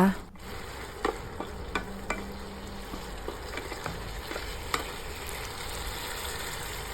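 Shrimp stir-fried with southern Thai curry paste and stink beans sizzles softly in a pan, broken by sharp clicks and scrapes of a spatula stirring at irregular intervals, with no talking.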